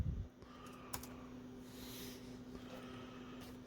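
Light, scattered key presses on a newly replaced Acer Aspire laptop keyboard, faint and close over a steady low hum, with a few isolated clicks.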